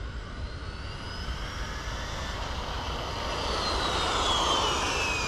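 A Traxxas Maxx Slash RC car running on a 6S battery: its electric motor gives a steady, continuous high whine that climbs slightly in pitch and grows a little louder toward the end, with no one talking.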